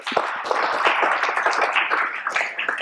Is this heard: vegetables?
no